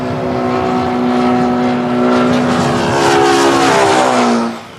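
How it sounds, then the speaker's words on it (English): A jet aircraft passes near Hong Kong's offshore airport, a loud sustained engine roar with strong tonal whine that slowly slides downward in pitch as it goes by, then fades quickly at the end. "The plane produces sound waves. When it travels towards us, the waves bunch closer together, changing frequency and creating a higher pitched sound."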